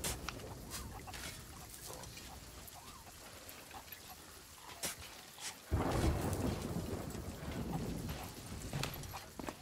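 Rain and thunder in the pirate video game Sea of Thieves: steady rainfall with sharp thunder cracks, then a heavy rumbling roll of thunder swelling loud and lingering near the end.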